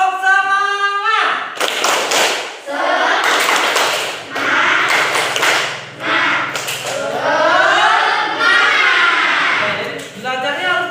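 A class of schoolchildren performs the tepuk semangat chant, voices chanting together in rhythm with bursts of clapping and tapping, loud and close, with a teacher's voice leading at the start.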